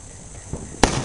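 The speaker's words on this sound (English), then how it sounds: "you can hear the sound of fireworks going off everywhere" A single distant firework bang on the Fourth of July, a sharp pop near the end over a faint outdoor hiss.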